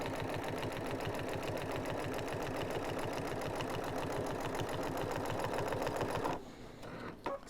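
A sewing machine stitching binding down on a quilt runs in a fast, steady rhythmic chatter for about six seconds, then stops, leaving a few faint clicks and handling sounds.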